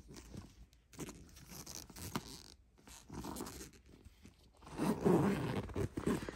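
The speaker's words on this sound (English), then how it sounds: "Smooth zipper" A zipper pulled along a bag in several short, close-up runs, with soft rustling and handling noises between, louder toward the end.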